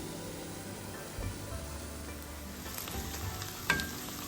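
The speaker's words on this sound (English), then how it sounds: "Saute it for a minute" Coconut sautéing in oil in a pan for an Erode-style Pallipalayam chicken fry, a steady close sizzle with a few stirring scrapes and a sharper knock near the end.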